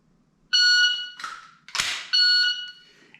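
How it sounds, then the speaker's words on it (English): Shot timer start buzzer sounding twice during a dry-fire reload drill, each a sharp, loud electronic beep lasting about half a second, with brief rustling handling noise between the two tones. "when you hear the buzzer, you initiate your movement"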